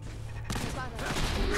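Rapid gunfire in the video game Fallout 4, a burst of overlapping shots from a firefight loud and close, with a voice talking over it.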